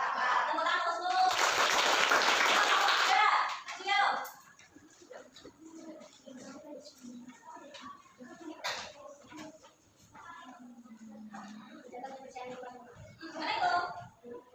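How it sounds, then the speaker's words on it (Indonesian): Classroom applause from a group of pupils, a dense burst of hand clapping for about two seconds near the start. A teacher and children then talk and answer back and forth over a quiet room. "Tepuk tangan untuk seluruh."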